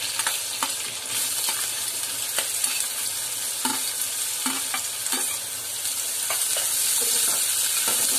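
Green chillies and curry leaves fry in hot oil for a Malvani-style pumpkin sabji, giving a steady bright sizzle broken by repeated clinks and scrapes of a stirring spoon against the pan. No one talks.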